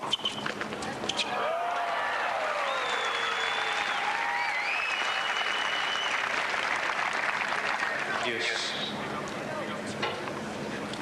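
At a 1996 Miami tennis match, the crowd bursts into applause after an ace, a broad roar of clapping that swells early and holds before fading, with commentators talking over it and cheering voices rising through.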